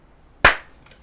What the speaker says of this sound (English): Oh, I didn't clap sync the last time.